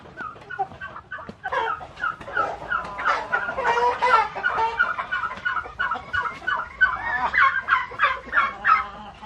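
Many hens cluck busily and continuously, a dense, close chorus of short clucks and squawks with no talking.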